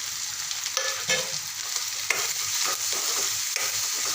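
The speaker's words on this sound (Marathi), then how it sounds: "आता मी चवीपुरतं मीठ हळद आणि तिखट काढून घेतलेलं आहे ते सोडणार आहे" Salt, turmeric and chili powder are stirred into tomatoes frying in a pan, giving a constant close sizzle broken by steady scraping stirs, with no talk.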